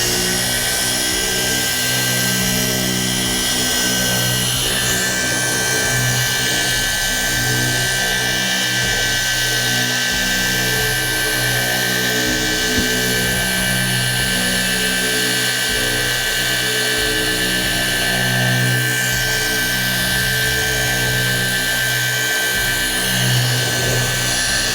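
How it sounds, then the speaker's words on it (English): Car polisher running at speed setting 3 over scratched car paint, a loud steady whirring drone with a constant pitch held the whole time, close by and alone with no talking. "I'm also gonna dial up the speed to a speed 3 on my polisher."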